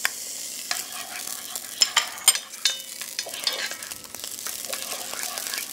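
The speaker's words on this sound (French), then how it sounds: "Donc nous allons faire suer les oignons en quartier." Quartered onions sweat gently in fat in a pan with a soft, steady sizzle, crossed by a few clicks and scrapes as they are stirred.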